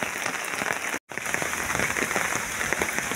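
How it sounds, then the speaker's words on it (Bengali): Heavy rain pours steadily during a flood in a village in Magura district, a dense close drumming on surfaces with a brief dropout near the start and no talking. "প্রচুর পরিমাণে বৃষ্টি হচ্ছে আমাদের মাগুরা জেলা আমুরা গ্রামে"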